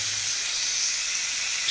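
Ingredients fry in a pan over a kept-up flame, giving a steady, close hiss and sizzle that holds evenly throughout with no talking.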